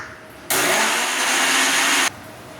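A blender whirs loudly and steadily for about a second and a half, blending banana with milk and sugar, then cuts off abruptly.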